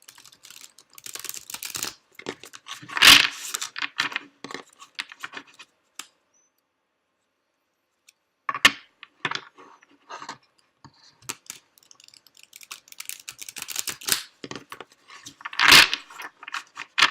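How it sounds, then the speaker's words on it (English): Tarot cards are shuffled in repeated crisp riffling bursts, several flurries separated by a quiet pause, close and fairly loud with no talking. "I'm going to take a minute here just to focus on the shuffling"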